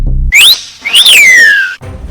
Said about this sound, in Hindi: तब रंगीला ने जोर से सीटी बजाई